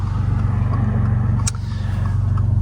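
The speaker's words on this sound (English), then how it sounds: "Here comes a GLI. It's a nice car." A GLI car drives past nearby, a steady engine rumble throughout with a brief bright hiss near the middle, no talking.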